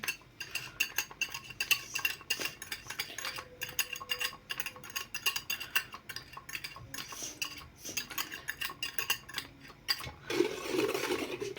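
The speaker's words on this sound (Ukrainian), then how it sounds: "Перемішуємо. Додаємо сметанку." A spoon stirs paska Easter bread batter with sour cream added, making a busy, continuous run of close scraping and clinking against the bowl in quick irregular strokes that grow slightly thicker near the end.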